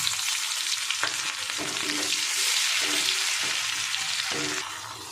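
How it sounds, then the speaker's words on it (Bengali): Chopped onions sizzle steadily in hot oil, a dense crackling hiss with a few soft clanks of a utensil stirring the pan. "এবার আমি পেঁয়াজ কুচিটা দিয়ে দেবো।"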